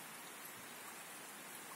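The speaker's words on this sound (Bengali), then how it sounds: "বৃষ্টি হইতেছে বাহিরে। আমার বাসার পঞ্চম তলা থেকে আমি ভিডিও করতেছি।" Steady rain falls outside, heard from a fifth-floor flat on an early July morning, a constant even hiss of drops with no voices.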